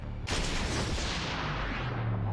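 A single sniper rifle gunshot in a mobile sniper shooting game cracks out sharply and loudly, followed by a long, rumbling decaying tail.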